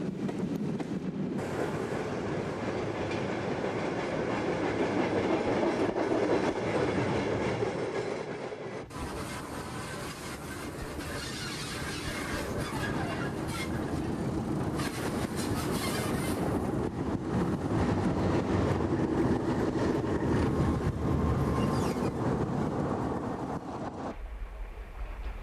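A British diesel locomotive, an English Electric diesel, rolls along the rails with a continuous rumbling roar and clattering, fairly loud and steady throughout, with some wind buffeting and no talk.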